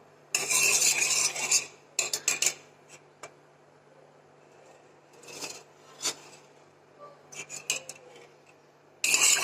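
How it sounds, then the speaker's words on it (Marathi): A spoon stirring a custard and milk mixture in a pot, with intermittent scraping and rasping strokes against the metal separated by quiet gaps, close and fairly clear. "आता हे चांगलं घोळत राहायचं"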